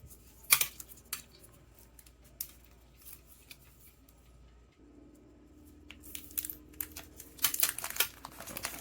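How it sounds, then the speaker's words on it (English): Plastic wrapping is peeled and torn off a new TW8 smartwatch in close, crinkly bursts. Sharp rustles and snips come between quieter pauses, growing busier toward the end, with no talking. "Kind of hard to remove the plastic here"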